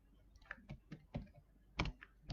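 Computer keyboard typing during a video-editing session: a handful of sharp, close keystroke clicks in an uneven rhythm, some isolated and a couple bunched together, with no voices.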